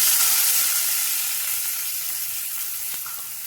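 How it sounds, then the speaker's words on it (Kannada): Onions and green chili frying in hot oil, a strong, steady sizzle that starts loud and eases slightly as the pan settles, with faint stirring scrapes and no voices. "ಇವಾಗ ಇದಕ್ಕೆ ಈರುಳ್ಳಿ ಆ್ಯಡ್ ಮಾಡ್ಕೊಳ್ಳೋಣ."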